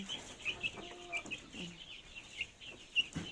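Young Barred Plymouth Rock chickens clucking softly and intermittently, a few short clucks and chirps at moderate distance over a quiet background, no talking.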